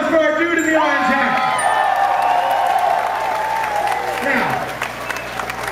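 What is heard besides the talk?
applause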